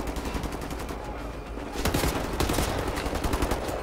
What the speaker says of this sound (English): It's a gun turret.